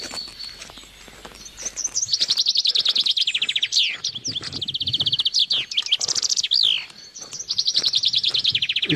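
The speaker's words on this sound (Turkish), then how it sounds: "İspinozlar ötüyor." Chaffinches singing in a pine and oak forest along a walking trail, repeated bright trilling phrases ending in flourishes, several birds overlapping, clear and fairly close, with faint footsteps beneath.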